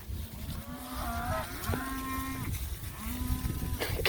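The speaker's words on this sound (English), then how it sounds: "Cows are all bawling. They all got babies." Cows bawling with calves in a herd of about 74 youngsters, loud repeated moos overlapping against open-air background noise, several animals calling at once.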